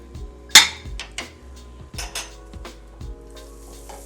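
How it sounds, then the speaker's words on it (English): A tablespoon of butter melts in a hot pan on medium-high heat while a utensil pushes it around, giving a soft sizzle under sharp clinks and scrapes of metal against the pan, close and irregular. "I'm cooking on about medium-high, getting my butter around, melted down."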